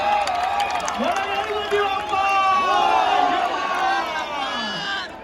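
A large, dense crowd cheers and whoops continuously at an outdoor Dahi Handi human-pyramid event, with loud shouts and voices layered over one another and any clapping buried beneath the roar throughout.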